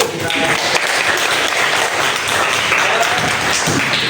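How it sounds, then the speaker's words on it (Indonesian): A class of students claps together in a classroom during a social studies lesson, a steady, fairly loud patter of many hands that carries on unbroken throughout. "Tepuk tangan dulu"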